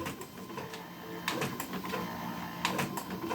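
Canon imageClass MF4720w laser printer feeding and printing a page, a steady mechanical whir with clicking and rattling bursts from the rollers, moderately close and alone.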